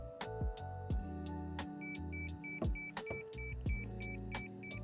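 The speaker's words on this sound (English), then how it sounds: "we should get beeps when it's full" A Hava R09 portable dishwasher in a camper van signals that its 5 litre water tank is full with a steady series of short, clear electronic beeps, evenly spaced over a low hum and a few clunks and knocks.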